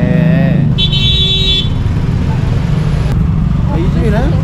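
Busy night street traffic in Kuta, Bali, full of motorcycles, makes a steady, loud rumble of engines. Short horn toots cut through, and voices talk over it.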